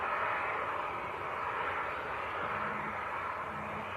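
Aer Lingus airliner arriving from Belfast at Leeds Bradford Airport, a steady broadband engine roar that holds loud and even throughout, with no talk over it.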